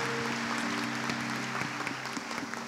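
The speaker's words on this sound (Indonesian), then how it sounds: "tepuk tangan dulu untuk Tuhan Yesus yang luar biasa." A church audience claps in steady applause, heard at a moderate distance in a reverberant hall, with a faint sustained tone running underneath.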